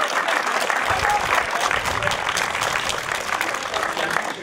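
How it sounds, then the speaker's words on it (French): An audience applauds at an awards ceremony for the 2022 Turckheim-Trois Epis hill climb, with steady, loud crowd clapping sustained throughout. "Vous pouvez les applaudir."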